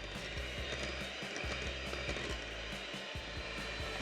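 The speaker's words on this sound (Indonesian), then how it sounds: "Sekarang kita mixer sampai lembut" An electric hand mixer beats cookie dough with powdered sugar, a steady close whirring drone with rhythmic knocking as the beaters hit the bowl, and no talking.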